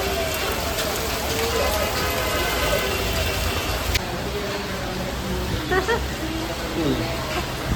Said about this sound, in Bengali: শিলা বৃষ্টি হচ্ছে এখানে।